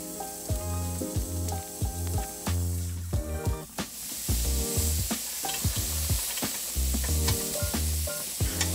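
Lamb skewers sizzle on a Weber Baby Q barbecue grill, giving a continuous bright hiss with crackles and pops. Tonal background music plays underneath throughout.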